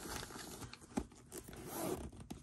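A zipper is drawn along a small pocket of a Coach handbag in short rasping pulls, close and fairly quiet, with faint handling rustle around it.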